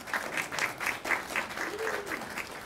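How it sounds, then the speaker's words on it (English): Applause from an audience at a school awards ceremony honoring teacher and school-related employee of the year, steady clapping throughout at moderate volume. "Give them a round of applause."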